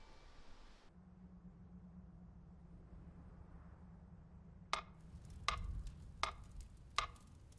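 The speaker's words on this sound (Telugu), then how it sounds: "ఈ టికింగ్ శబ్దం వినపడుతుందిగా," Four sharp, evenly spaced clock ticks sound close and clear in an otherwise quiet room with a low hum, starting only after several seconds of near silence.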